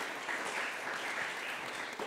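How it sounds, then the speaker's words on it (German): Audience applause at a German research symposium panel discussion, a steady dense clapping from a crowd filling the whole stretch without pause. "der Applaus gehört Ihnen"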